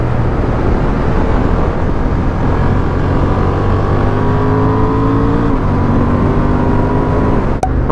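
A Honda Hornet 750 motorcycle fitted with a quick shifter accelerates hard, its engine note climbing steadily with quick upshifts near the six-second mark, loud and continuous with wind rush and no talking.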